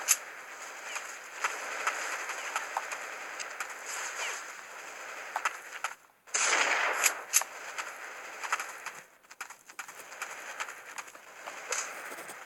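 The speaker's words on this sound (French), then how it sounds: "on me tire dessus" Gunfire in Counter-Strike plays as dense, continuous bursts of shots over the game's noise, with a brief pause partway through, then the rattling shots resume.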